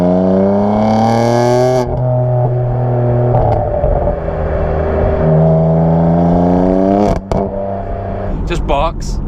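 A BMW M4 with a modified exhaust and switchable valves revs hard, its engine note sweeping up and holding loud and close, then breaking into sharp barks and pops near the end.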